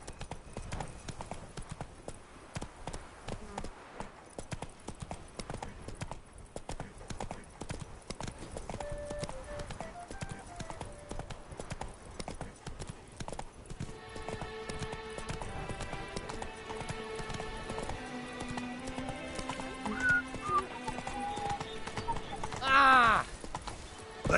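Roach the horse gallops in The Witcher 3: Blood and Wine, rapid rhythmic hoofbeats running steadily for the whole stretch while game voices talk and music comes and goes.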